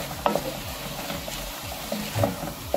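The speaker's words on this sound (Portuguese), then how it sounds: "Vamos misturar." A chickpea stroganoff with sweet paprika is stirred in a pan, giving a soft steady sizzle with occasional scraping knocks of the spoon, close and alone.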